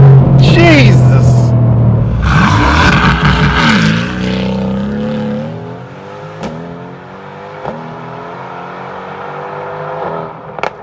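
A 2020 Mercedes-AMG GT R in race mode launches at full throttle with a loud engine roar that sweeps up in pitch and then settles into a steady drone. Excited voices exclaim over the start.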